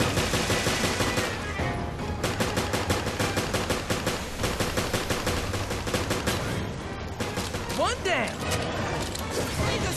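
Rapid gunfire from Resident Evil: Revelations on Xbox 360, dense bursts of shots rattling loudly and almost continuously, with a few brief gaps and a metallic sweep near the end.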